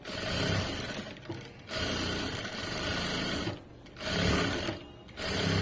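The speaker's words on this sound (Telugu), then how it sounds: "ఇలా ఫోలింగ్ చేసేసుకుని ఇంకో స్టిచ్ వేసేయండి ఇక్కడ ఇలాగా" A sewing machine stitches thread piping onto fabric in several sustained runs of steady mechanical whirring, broken by short pauses between bursts. No one speaks.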